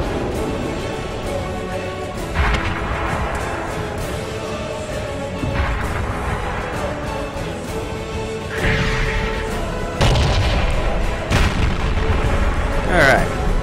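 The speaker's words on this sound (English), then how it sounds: "Artillery scores a big hit on the T-34." An artillery shell from an FV304 self-propelled gun strikes a T-34 tank in a video game, a heavy boom standing out among the ongoing battle noise, while someone talks over the action.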